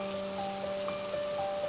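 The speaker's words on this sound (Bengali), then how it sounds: "আকাশ ঘন কালো মেঘে ছেয়ে যায় আর বৃষ্টি শুরু হয়ে যায়" Rain begins in a Bangla cartoon, a steady soft patter of drops on a surface with faint tones lingering underneath.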